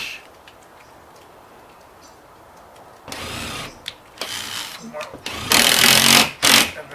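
A screw gun drives screws into sagging, water-damaged ceiling drywall, giving several short, loud whirring bursts up close after a few seconds of near quiet.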